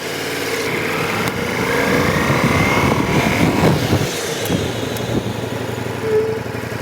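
A motorcycle braking with only the front brake during a braking drill, a continuous engine drone and tyre noise that swells and settles as the bike slows, fairly close and with no talk.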